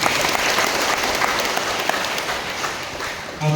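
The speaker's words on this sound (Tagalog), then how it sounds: "Simang palakpak ng Ginoo." A congregation at a morning Holy Mass claps together, a steady, fairly loud wash of applause that carries on evenly before trailing off at the very end.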